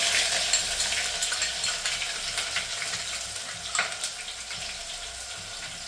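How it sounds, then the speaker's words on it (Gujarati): Onions sizzle and crackle steadily in a pan of hot, darkened whole spices for a Gujarati chapdi undhiyu, with a few stirring scrapes and no talking. "હવે એમાં આપણે કાંદા નાખીશું."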